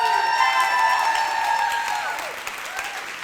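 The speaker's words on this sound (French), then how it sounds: "Je vous demande un tonnerre d'applaudissements pour Alice Zaguri" Audience at a startup pitch night breaks into applause with some cheering, sustained clapping under a held tonal sound that fades, then the claps thin out toward the end.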